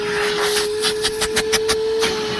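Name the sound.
Bauer 20v cordless vacuum running on setting 3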